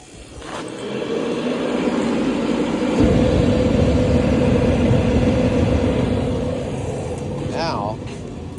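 An old gas-fired shop heater roars steadily after the gas is turned on, giving a continuous, fairly loud broadband rush with a low rumble that holds throughout.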